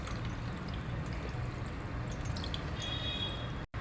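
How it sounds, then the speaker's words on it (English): Water from soaked thick poha drains through a strainer as a continuous close pour and drip that stays steady throughout and ends in a brief cut. "you can drain out the water through a strainer like this"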